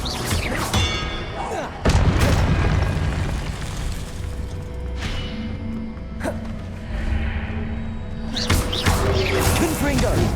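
Confringo explosive spells blast in the Hogwarts Legacy video game. Several loud booms burst out at intervals amid game effects and ambient noise, with a voice speaking in between.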